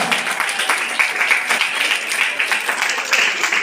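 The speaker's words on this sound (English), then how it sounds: "Give a big round of applause." An audience at a college teaching session applauds a student, with dense steady clapping from many hands throughout at close range.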